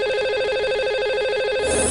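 A telephone rings as a call is placed to a caller on a live broadcast, a steady electronic ringing tone heard clearly and alone for about two seconds.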